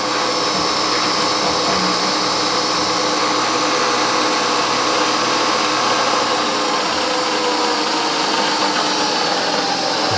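A power drill bores holes in parts for a nine-cylinder radial engine build, giving a loud, continuous whirring whine that runs unbroken for about ten seconds.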